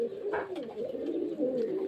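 Pigeons kept for sale at a pigeon seller's home coo steadily in soft, rolling, low phrases that stay close and moderately loud throughout, with no talking over them.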